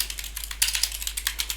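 Fast typing on a computer keyboard entering a Linux curl download command, a brisk run of light, close key clicks with a few firmer strokes, no voice.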